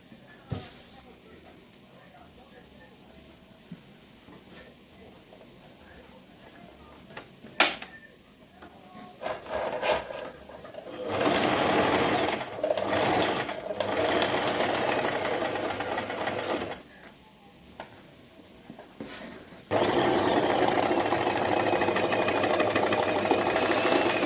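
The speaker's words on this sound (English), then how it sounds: "Then you just go ahead and sew, right? So let's sew it now." A sewing machine stitches a seam on a notched collar jacket, running in steady, fairly loud bursts of whirring that start, pause and restart, with the longest run near the end.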